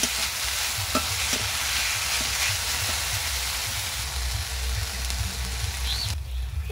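Potatoes for a crispy snack stirred while frying in a pan, with a continuous sizzle, a low rumbling bed and a few clinking stirring strokes early on, close and without talk.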